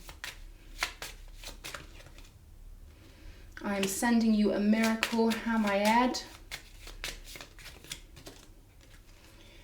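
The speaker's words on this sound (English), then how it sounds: "let me shuffle that back in" Tarot cards being shuffled in quick repeated riffling bursts, close up, while a person speaks briefly in the middle.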